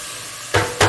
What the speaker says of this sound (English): I've got my onions in the olive oil, and they're just frying up beautifully